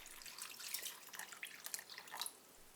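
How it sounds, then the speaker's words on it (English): Water for soaking dried sweet peppers drips and trickles in a short burst of light, irregular splashes, close and quiet, with no talking. "Then soak them in water for 20 minutes."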